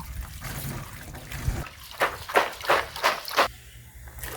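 Taro stolons are rinsed by hand in water, giving a run of close splashing, sloshing bursts in quick succession, with a faint trickle between them and no talking.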